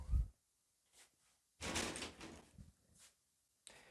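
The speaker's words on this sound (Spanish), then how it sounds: "Esta persona, por su seguridad, decide cerrar la puerta" A house door swung shut for security, with a thud at the start, then a longer rattling burst of handling and latch noise, a couple of small knocks and a final click, fairly quiet overall.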